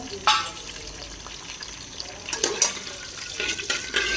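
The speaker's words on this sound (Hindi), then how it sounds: "घी में डालेंगे हम 1 चम्मच ज़ीरा" Cumin seeds frying in ghee in a kadhai, a steady soft sizzle with brief crackling bursts and a few louder spits, close by with no talking.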